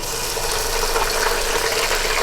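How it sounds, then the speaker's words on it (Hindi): Water pours steadily into ginger-garlic masala for chicken haleem, a continuous close splashing rush with no talk. "और थोड़ा सा डालेंगे इसमें पानी।"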